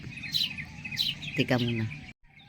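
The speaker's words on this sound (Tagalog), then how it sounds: "pakinggan lang muna natin ang mga awit ng mga ibon na sobrang nila masaya" Birds singing outdoors, repeated bright chirps and tweets against a steady background hiss, with a short voice-like sound partway through.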